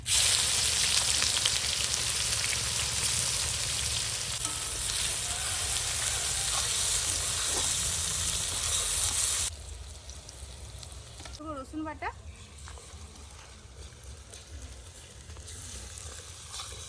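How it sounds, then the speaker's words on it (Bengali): Whole garam masala, bay leaves and chopped onion hit hot oil for a chicken biryani, giving a loud, dense sizzle that drops sharply partway through to a softer crackle, with brief voices and stirring afterward. "এবার আমি তেলের মধ্যে দিয়ে দেবো গোটা গরম মশলা তেজপাতা পেঁয়াজ কুচি"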